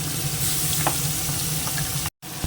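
A spice mix fries in hot oil in a pan, giving a steady, close sizzle with faint stirring ticks, briefly cut to silence near the end. No one speaks.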